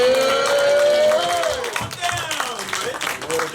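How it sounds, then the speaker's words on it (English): An audience at a speakers club presentation claps and cheers loudly, with whoops and voices mixed into the sustained applause. "We have to give a big, rousing round of applause for Red."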